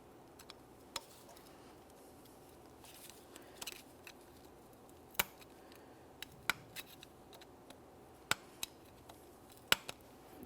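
Prying apart the ears of a small U-shaped parking brake clamp on a 2008-2017 Mitsubishi Lancer gives sparse, sharp metallic ticks and clicks, scattered irregularly over a quiet background with no talk.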